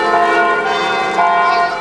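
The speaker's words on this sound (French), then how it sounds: "Le carillon de l'église sonne toujours joyeusement la sortie de l'école." A church bell chime rings steadily at school dismissal, with rich, sustained overtones, loud and resonant, a second strike swelling in near the end.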